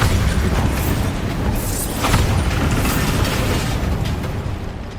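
In Hogwarts Legacy on PS5, a Bombarda spell explodes as a dense, roaring blast with crackling bursts layered over a steady rumble for several seconds, with no voices.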